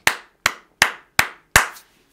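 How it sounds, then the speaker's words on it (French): Five sharp, evenly spaced hand claps ring out in a church congregation, each crisp and close with a short decay, and no voices are heard between them. "Tu peux acclamer un peu pour la gloire de Dieu."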